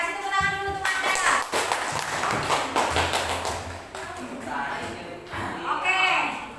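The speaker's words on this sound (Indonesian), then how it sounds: "kasih tepuk tangan dulu untuk Nanda." Students in a ninth-grade mathematics classroom clap in irregular bursts, with uneven taps and thumps nearby and overlapping voices and chatter mixed in.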